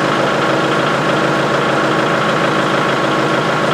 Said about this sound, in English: as you can hear, I got the tractor running.